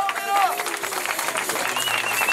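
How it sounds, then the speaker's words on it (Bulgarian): A crowd applauds at the awards ceremony of the Shipka 2013 car race in Kazanlak, with moderate clapping mixed under an announcer speaking over the PA. "вашите аплодисменти за Мирослав Ангелов от Мегапорт"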